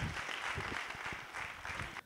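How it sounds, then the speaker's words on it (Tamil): An audience claps steadily in a dense wash of applause that ends abruptly, with no speech over it. "உங்கள் கரகோஷங்களோடு"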